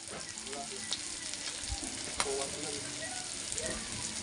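Pancit sizzling steadily in a hot pan as soy sauce goes in, a dense continuous frying hiss with faint stirring clinks throughout and no clear speech.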